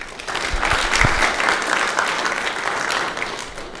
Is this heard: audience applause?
yes